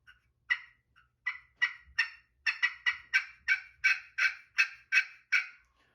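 A handheld turkey call worked by a hunter imitates an excited hen yelp: about fifteen sharp, raspy yelps, sparse at first, then a fast, steady, accelerating run, loud and close with no talking.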